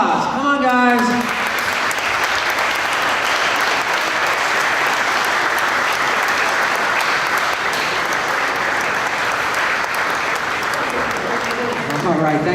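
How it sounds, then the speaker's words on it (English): Audience applause at a Corvette giveaway grand prize award ceremony, a dense, sustained wash of clapping that holds steady and loud for the whole stretch, with a voice briefly heard at the start and end. "Let's bring up the entire Dream Team for a round of applause."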